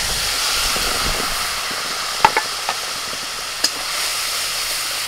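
Spice paste hits hot oil in a wok that already holds bay leaf, cardamom, cinnamon and cloves, giving a steady loud sizzle and hiss with a few sharp pops and clinks of the spoon.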